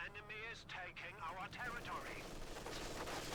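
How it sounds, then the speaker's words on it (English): In Company of Heroes 2, a Wehrmacht versus Soviet match, bursts of gunfire and explosions rumble at a distance under a commentator's steady narration. "Nicely timed incendiary pistol rounds here, making any frontal assault here by JDS a rather painful affair"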